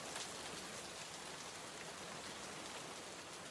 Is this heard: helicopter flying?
no